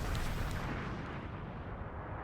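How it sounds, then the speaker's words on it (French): Explosions in a Dragon Ball anime episode: one continuous, loud, roaring blast rumble filling the whole moment, dense and broadband, slowly fading at the top end. "Ça explose beaucoup."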